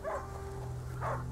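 A dog barks twice in the Rune-inheritance video game, two short muffled woofs about a second apart, heard alone over a steady low game ambience.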